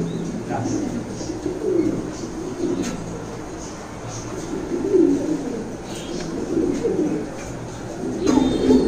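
White Beauty pigeons at a pigeon farm coo in soft, repeated low calls, close by and continuing through the whole stretch amid a busy background.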